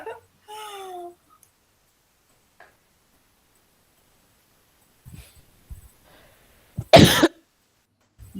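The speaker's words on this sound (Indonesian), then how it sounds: "Bukan ketawa, batuk." A single harsh cough bursts out near the end, preceded by scattered quiet clicks, a few short vocal sounds and long stretches of near silence.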